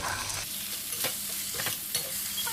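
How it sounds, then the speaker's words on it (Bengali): Ash gourd with poppy seed paste and coconut oil being stirred in a hot pan for a vegetarian dish: a steady sizzle with repeated sharp spatula scrapes and clacks against the pan, close and fairly loud, with no talking. "এবার আমি আবার নাড়াচাড়া করতে থাকবো"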